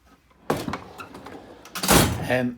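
A drawer on a Snap-on KRL 55-inch tool chest slides open with a sharp metallic rattle and thunk, followed by a second louder clattering slide, close and unaccompanied by speech.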